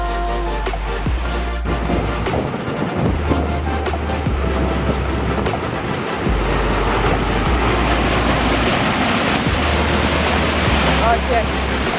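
Rushing cold mountain water on a Pikes Peak hike in Colorado, a steady loud broadband roar filling the whole stretch with wind buffeting the microphone, close by.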